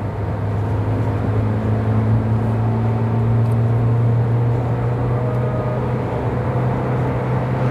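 Steady engine drone and road rumble from inside a car driving and overtaking on a road, loud and constant with a low hum throughout.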